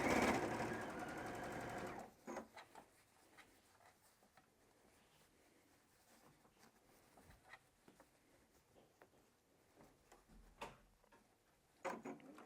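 A sewing machine stitches a fabric tote bag closed. It gives a brief, steady mechanical whir at the start, then only quiet, scattered ticks and taps of handling follow.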